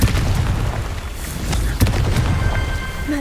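Confringo blasting spell detonating in Hogwarts Legacy, a run of heavy booming blasts with a sharp crack near the middle, loud and close, no talk.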